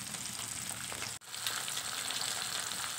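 Hilsa fish pieces sizzle in oil over a medium gas flame, a steady close hiss with one sharp momentary dip midway, then the frying continues evenly, no voices present.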